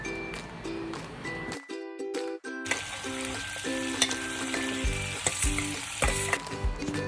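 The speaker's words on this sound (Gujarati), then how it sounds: "અને આની કચાશ દૂર થાય ત્યાં સુધી આપણે સાતળીશું।" Onion, cabbage and capsicum sautéing in butter for a street-style frankie, a bright sizzle under background music, interrupted by a brief pause and then resuming with stirring clinks and scrapes against the pan.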